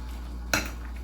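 A utensil clinks and scrapes once against a bowl while Louisiana seafood cake ingredients are mixed, a single short close knock over a low steady hum, with no talking.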